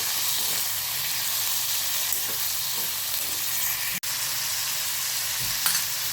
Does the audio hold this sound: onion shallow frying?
yes